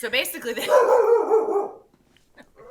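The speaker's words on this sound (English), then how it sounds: "even though he's barking" A dog barks and yelps close by in a small home, loud bursts in the first two seconds, with a person talking.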